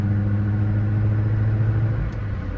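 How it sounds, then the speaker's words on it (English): A 1991 SAAB 900 Carlsson turbo with a rebuilt engine pulls with a steady, loud low-pitched engine drone and humming rumble, sustained throughout without voices. "As wonderful to drive as these always are, especially when the turbo kicks in at about 3000 RPM."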